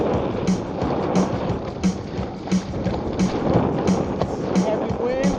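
Heavy wind of about 10 to 15 mph roars steadily around a Seastream Angler 120 kayak on rough water, with a rhythmic repeating knock and splash roughly every half second, loud and close throughout.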